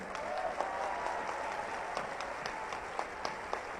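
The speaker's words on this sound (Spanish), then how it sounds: "Recibimos con un aplauso a la maestra Felicitas del Carmen Suárez Castro." Audience applause at a book presentation and tribute ceremony, a steady dense wash of clapping from a seated crowd with occasional sharper individual claps standing out, sustained and even throughout.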